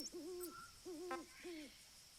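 A soft, wavering bird-like hooting call from the video game Metal Gear Solid V: The Phantom Pain, three owl-like hoots repeating alone at low volume, with a faint high electronic tone underneath.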